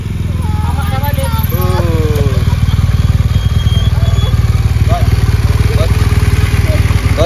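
A 2016 BMW R1200 GS motorcycle engine idles steadily and loud up close, its low throbbing pulse continuous throughout, with people talking over it.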